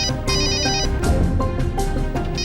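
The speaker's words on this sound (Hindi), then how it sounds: "फिर से ललिता जी का फोन" A telephone rings loudly and close with an electronic ringtone, a melodic repeated tone that sounds several times in quick bursts with no talking.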